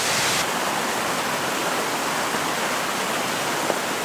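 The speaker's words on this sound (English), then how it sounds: "hopefully you can hear me over the sound of the rushing water" Rushing waterfall in the Appalachian Mountains in spring with high water after rain, a loud, steady, dense roar of falling water filling the whole scene without pause.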